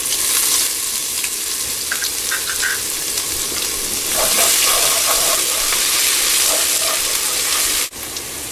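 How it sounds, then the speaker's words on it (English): Ginger and garlic fry with coriander seeds in hot oil, a loud, continuous close-up sizzle with crackling pops that holds steady, then drops suddenly near the end. "So we're just waiting for the ginger garlic to get a little bit light brown"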